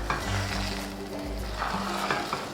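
Beaten egg mixture sizzles loudly in a hot pan while being stirred, with a constant close frying hiss and the scrape of a spatula moving through it.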